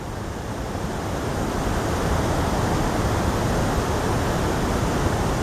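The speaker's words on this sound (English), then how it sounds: "we've made it down to exactly where the waterfall is" Steady, dense roar of Tahquamenon Falls pouring close by, a continuous broadband rush of falling water with no pauses, constant and loud from start to finish.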